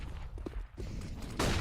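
FAMAS rifle gunfire in a Counter-Strike match, a faint, muffled stretch of shots that ends in a louder burst at the close.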